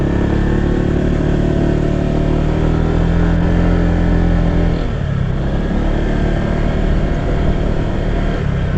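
A motorcycle rides over a rough road inside the six-kilometre danger zone of Mayon Volcano in Albay, its engine a steady, loud, close drone with a brief dip midway and no talking.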